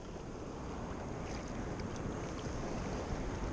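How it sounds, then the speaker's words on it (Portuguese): A fishing boat's motor runs at sea, giving a steady, dense rumble that blends with wind buffeting the microphone and the wash of water, constant and unbroken throughout. "Pode parar o motor agora."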